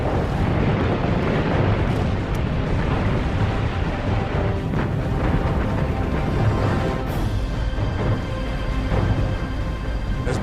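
Torpedoes and bombs strike the Japanese battleship Musashi at the Battle of Leyte Gulf, heard as a continuous roaring, rumbling barrage with scattered heavier bursts throughout.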